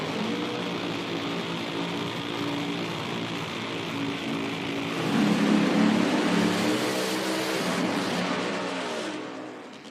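A nitro drag racing car on a distant run, heard as a continuous broad engine roar that swells in the middle and then fades toward the end.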